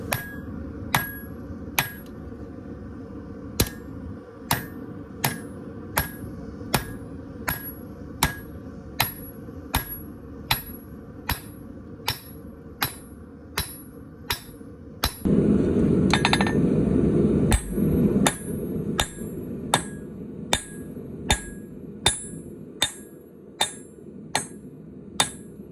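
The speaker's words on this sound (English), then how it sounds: "Once I'm happy with my preform, I can go back through and continue to draw it out until I have the desired thickness." Hand hammer blows ring out on a small hunting knife preform set on an anvil as it is forged and drawn out, steady sharp metallic strikes about once a second, with a loud roaring burst partway through.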